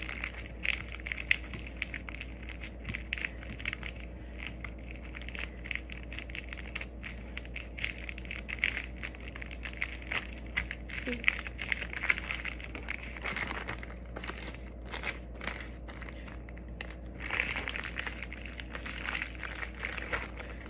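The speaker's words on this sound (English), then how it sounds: "you're gonna kind of smash them down into like a soupy kind of puree" Soft, continuous wet squishing and crackling as fruit is crushed by hand, steady and close, with no talking.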